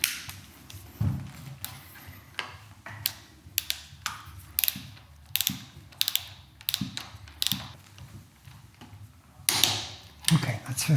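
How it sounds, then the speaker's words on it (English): Ratchet wrench tightening screws to 50 newton meters while fitting a centered speedometer on a Meteor 350 motorcycle; repeated bursts of sharp clicking come close and loud, separated by brief pauses, with no talk. "So now I have to tighten these screws here. I need 50 Newton meters."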